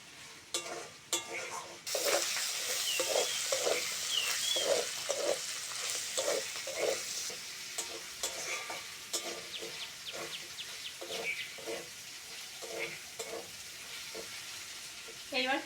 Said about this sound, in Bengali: সঙ্গে পেঁয়াজটাও ভাজা হয়ে যাবে।